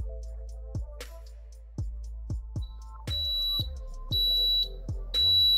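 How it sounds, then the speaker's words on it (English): A Cuisinart vertical waffle maker gives a series of bright, steady electronic ready beeps, loud and close, several in a row with soft knocks and handling thuds between them. "the beep I like to hear means we're ready for business"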